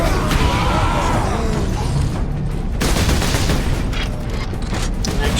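Dense, continuous battle noise from Warhammer 40K Space Marine, a grenade blast amid rapid gunfire and booming impacts, loud and unbroken throughout.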